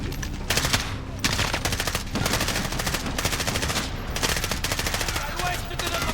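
Machine gun fire in the video game Modern Warfare (2019), with rapid automatic bursts and overlapping gunshots rattling repeatedly across the whole stretch, loud and dense, while battlefield voices call out in French.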